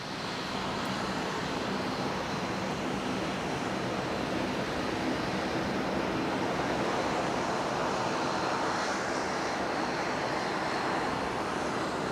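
A Jetstar airliner taxis at Brisbane airport, its engines a steady broadband roar heard from a distance outdoors, continuous and even throughout.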